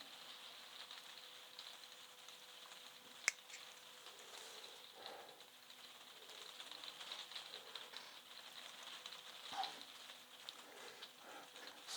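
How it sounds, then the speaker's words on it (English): Heavy rain pours steadily outdoors in a garden during strawberry planting, a constant close hiss of drops with occasional sharper taps and a faint insect-like buzz, no talking. "You can hear the rain chucking it down again."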